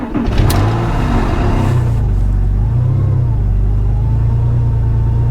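A Porsche Boxster engine runs just after being started, a loud, steady low rumble heard up close and continuing throughout without a break.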